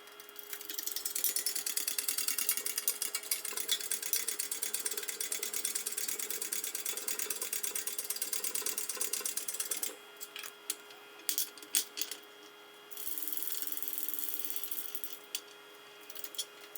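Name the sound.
ratchet bolting parts onto Mack truck frame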